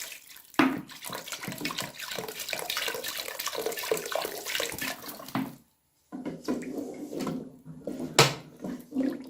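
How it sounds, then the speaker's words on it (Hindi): Steady rush of water pouring into a pot of beef bones for curry, close and fairly loud, with a brief pause before the splashing stream resumes. "अब इसके अंदर मैं पानी ऐड करती हूँ।"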